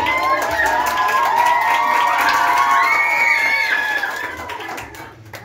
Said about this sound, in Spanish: grito y aplauso si creen que ganó el...